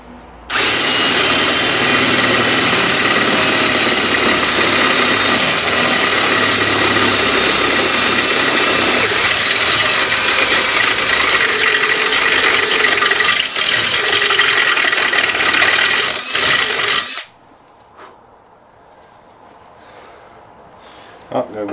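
Loud, steady power-tool whine of a drill reaming out a hole in a lawn trailer lock, running continuously for about seventeen seconds before cutting off, leaving only faint handling noises.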